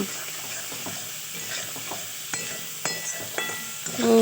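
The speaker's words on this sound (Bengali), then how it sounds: "সব সবজিগুলো দিয়ে দিলাম দিয়ে ভালো করে কষিয়ে নিচ্ছি মশলার সাথে" Beans, carrots and cauliflower sizzle steadily in a hot kadai for egg chow mein while a spoon scrapes and stirs in uneven strokes, with a sharper scrape near the end.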